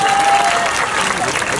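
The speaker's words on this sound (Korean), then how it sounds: "박수 다시 한번 부탁드립니다." Audience applause at a Wednesday prayer gathering: dense, loud, steady clapping from a crowd throughout, with a brief tone over it.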